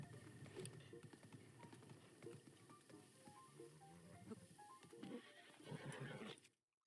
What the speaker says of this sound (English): I love this horse music.